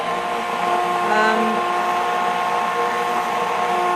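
An immersion blender whirs steadily in a pot of hot soup, a loud continuous motor drone with a churning, watery texture and a slight swell in the middle, running without pause.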